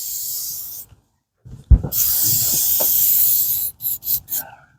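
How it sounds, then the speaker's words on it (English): An aerosol can of lubricant sprays onto a sliding screen door track in a long steady hiss, then a few short bursts, with a brief gap and a light knock between sprays. "so I just sprayed the track"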